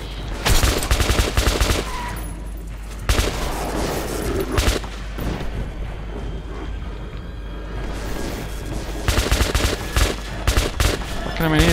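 Gunfire in Metro 2033 Redux on Xbox One comes in loud repeated bursts of automatic shots, with short pauses and a constant low rumble, heavy and close throughout.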